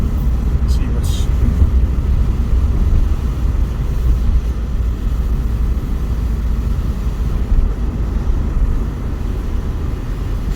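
Car driving through the streets of Swansea, a constant low engine and road rumble heard from inside the cabin, with a voice speaking over it.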